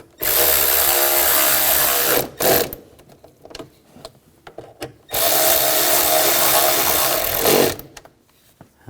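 A power tool tightens bolts on the high-pressure fuel pump of a 2007–2013 BMW X5 3.0L inline-six, two loud sustained whirring bursts separated by quieter clicks and handling of parts.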